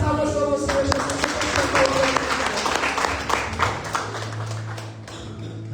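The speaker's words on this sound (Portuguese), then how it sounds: "As palmas vão ao Senhor Jesus." A church congregation at an evening service claps together, dense continuous applause under singing and voices, fading slightly toward the end.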